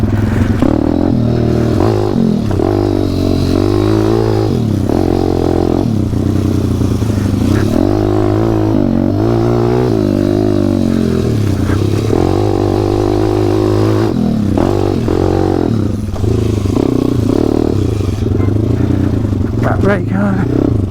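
A WPB 190 dirt bike engine revs and drones continuously while riding off-road, loud and close, its pitch rising and falling with throttle changes, with speech partly over it.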